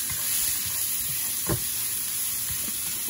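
Minced garlic dropped into hot rendered bacon fat in a wok, a loud steady sizzle and crackle close up, with a few soft stirring scrapes and no talking.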